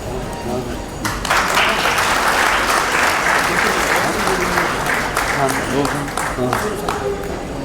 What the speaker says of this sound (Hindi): जोरदार तालियों से आप सब अभिनंदन करिए